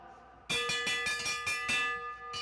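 Repeated loud clanging strokes of a hand-rung final-lap bell at an e-bike pacer race, about seven rapid ringing hits with a bright sustained metallic tone.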